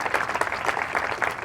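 Crowd applause at a seaside Blessing of the Waves gathering, a steady wash of many hands clapping at once, dense and sustained at moderate loudness for the whole stretch.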